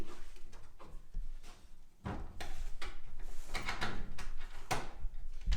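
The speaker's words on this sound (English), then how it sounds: "And the drawers, obviously, slide in there." Antique pine wardrobe drawers sliding in, a series of wooden scrapes and soft knocks at close range, with a few sharper thuds as each drawer seats.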